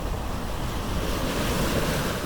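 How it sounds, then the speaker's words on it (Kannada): Cold wind blows off the ocean at a world-famous surfing beach in New Zealand, a steady loud roar of surf and gusting wind buffeting the microphone, with no voices. "ಸಿಕ್ಕಾಪಟ್ಟೆ ಥಂಡಿ ಗಾಳಿ ಬರ್ತಾ ಇದೆ ಸಾಗರದಿಂದ"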